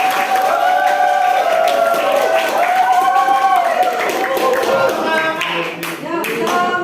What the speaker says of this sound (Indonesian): Silakan kita beri tepuk tangan untuk